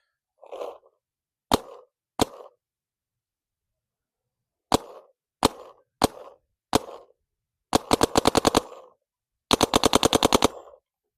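Paintball markers fire outdoors, first single sharp pops spaced apart, then two rapid bursts of quick shots, loud and close, from a Dye MXR and a Planet Eclipse CS3.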